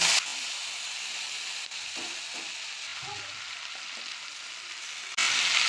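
Greens hit hot oil tempered with bay leaf, dried red chili and panch phoron for a Bengali ghonto, giving a loud, steady frying hiss with a few light stirring knocks.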